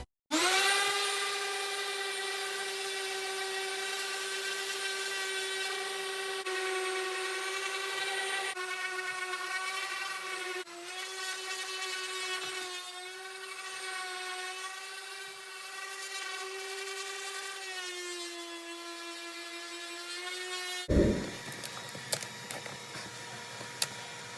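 A power sander works across the top of a maple and epoxy resin river table in a long, steady, whining hum with shifting pitch, ending with a brief clunk.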